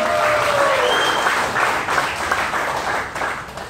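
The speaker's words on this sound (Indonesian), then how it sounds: "berikan tepuk tangan untuk Bapak Ibu semua" Sustained applause from a seminar audience of leaders at a business convention, dense and steady, with a faint tone briefly sounding over the clapping before it gradually thins.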